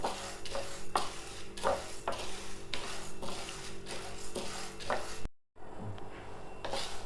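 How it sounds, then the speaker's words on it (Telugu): Moong dal roasts dry in a pan while being stirred, giving a quiet, continuous rustle and scrape with soft clinks of the spoon against the pan and a brief pause near the end. "పెసళ్ళు ఇట్లా ఎర్రగా వేయించుకోవాలి."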